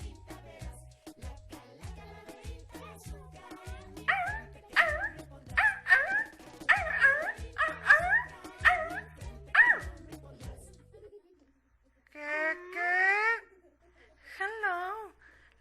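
Dog barking and yipping in a rapid run of sharp barks for about ten seconds, then a pause and a few whiny, wavering yelps, fairly close, with no talk.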